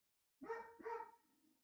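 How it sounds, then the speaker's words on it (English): A dog gives two quick barks in the background, faint and roomy, with a brief ringing tail afterward and no talk over them. "So my dog is barking."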